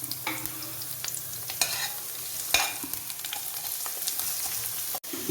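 Ginger sautés in oil in a pan for mutton stew, a soft steady sizzle broken by spatula scrapes and stirring bursts, ending with one sharp knock near the close.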